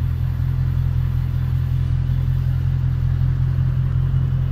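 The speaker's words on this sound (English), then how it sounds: "Rev it. Rev it." A Dodge Challenger with a stick shift runs its engine in a deep, loud, steady rumble close by, holding an even low throb for the whole stretch with no voices.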